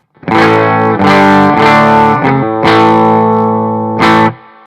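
Electric guitar on a Reverend Sensei RAFM bridge pickup at full volume, driven through a Bluguitar Amp1 ME amp, rings out in several loud distorted chords, each struck and sustained before the next, with a final chord cut short.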